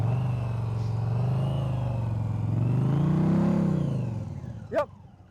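Motorcycle engine rising and falling as the rider works the throttle at low speed with light rear braking during riding practice, a steady nearby drone that swells then fades, ending with a brief sharp squeal.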